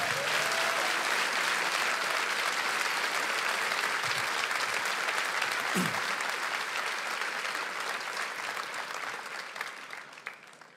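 Congregation applauding during a church sermon, a long steady roar of many hands clapping in a large hall that holds for several seconds and then slowly fades.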